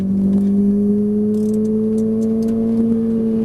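A Ferrari 458 Italia sports car on a track: a steady, loud, tonal engine hum heard from inside the car, with faint rustling on top.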